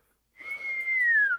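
A single sustained whistle, clear and fairly close, holding one pitch and then sliding slightly downward over about a second, with no talk around it.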